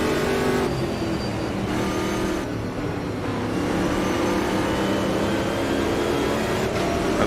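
A Brazilian race car in the sim racing game Automobilista 2 drones and revs continuously, its engine note shifting as it accelerates through gears, loud and close throughout with no talk.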